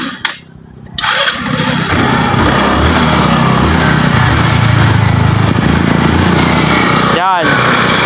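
A GY6 scooter engine fitted with a battery-operated CDI cranks briefly after a short pause, then catches and runs at a steady, loud buzzing idle, with someone speaking over it.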